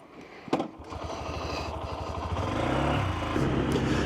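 A Honda CB125F motorcycle starts moving off, a single click followed by its small engine building from idle into a steady, rising drone as it pulls away close by, with no talking.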